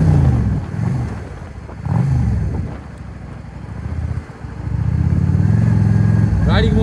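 A motorcycle engine drones steadily while riding in the mountains, rising and falling in bursts with wind buffeting the microphone; a voice speaks briefly over it.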